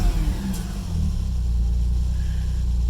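An Alfa Romeo 166 engine, just back from a Bosch ECU repair, revs in a steady, close, deep droning hum that holds throughout with no talking.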